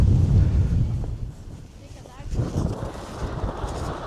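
Strong wind on a mountain top buffets the microphone in a continuous low roar with gusty surges, while people speak through it.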